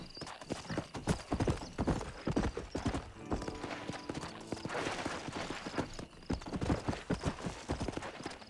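Galloping hooves of a horse in Red Dead Redemption clatter in a fast steady rhythm, close and loud, with a brief whinny and game ambience underneath.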